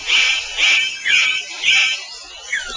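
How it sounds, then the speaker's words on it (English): A superb bird of paradise gives a repeated series of bright, high-pitched calls, about five evenly spaced phrases that are loud and close, with no other sound behind them. "The superb bird of paradise calls to attract a female."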